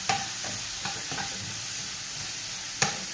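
Ingredients for bisibelebath fry and sizzle in a pan while a utensil stirs, with a few distinct scraping strokes over a steady crackle; no voices.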